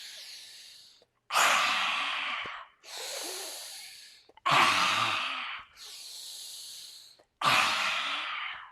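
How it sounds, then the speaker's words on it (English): Close, steady yoga breathing as arms are raised, in six long breaths that alternate between fuller, louder pulls and softer ones, with no talking. "I'm going to inhale up."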